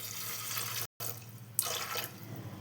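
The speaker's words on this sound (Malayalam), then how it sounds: "അതിനാവശ്യത്തിനുള്ള വെള്ളം ഒഴിച്ചു കൊടുക്കുക നമുക്ക്." Water poured from a tap-like stream into a pressure cooker holding kidney beans, a steady close splashing rush that cuts off briefly and resumes alone.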